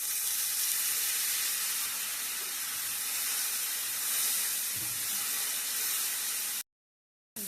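Onions and spices fry in a pan with dry shrimp and cauliflower leaves, giving a steady, close hiss of sizzling oil that runs unbroken for several seconds before cutting out briefly, with no talking.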